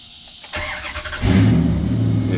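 A 2003 Dodge Ram 1500 with a Hemi V8 is cranked, the starter whirring briefly before the engine catches and settles into a loud, steady, rumbling idle nearby.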